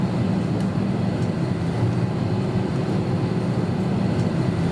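Inside a small airplane in Mexico as it comes to a stop after landing, a steady low engine and cabin hum drones on evenly without speech.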